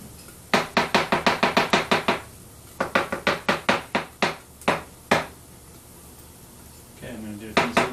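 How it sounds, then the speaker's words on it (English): Rapid knife strokes chop mushrooms on a cutting board in a home vegan kitchen, two fast runs of sharp, evenly spaced chops, then a few slower single cuts, close and clear. "I'm going to do the speed chopping"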